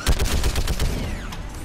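Rapid gunfire from a mounted anti-aircraft gun in a Mass Effect–style video game set on Rannoch, a fast burst of repeated shots lasting about a second before tailing off into a whooshing sweep.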